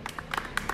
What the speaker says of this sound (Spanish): Un aplauso para el comodín.